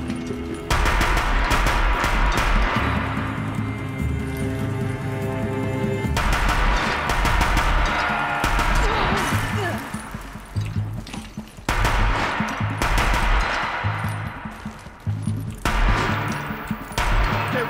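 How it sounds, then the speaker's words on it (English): Machine gun fire in the video game Horizon Zero Dawn, sustained and loud: dense rapid rattling bursts go on for many seconds with short breaks, over a droning game soundscape. "He has a machine gun."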